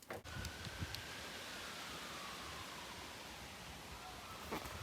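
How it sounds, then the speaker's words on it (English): Strong wind blowing outdoors on a blustery day, a steady broadband roar that holds for several seconds with a brief buffet near the start and another near the end. "It's pretty windy."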